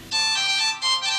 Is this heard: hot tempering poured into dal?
no